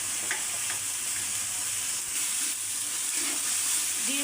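Spice masala of turmeric, salt, coriander and cumin powder frying in oil for a village-style tilapia curry with drumsticks, an even close sizzle with light stirring and no talk.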